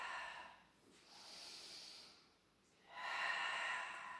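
Forceful breath exhalations during a Pilates exercise, each pushed out while squeezing a soft Pilates ball, come as breathy hisses in a steady rhythm with brief pauses between them, close and moderately loud, with no talking.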